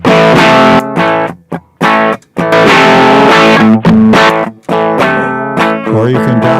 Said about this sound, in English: Now the distortion channel can be used as just a volume boost.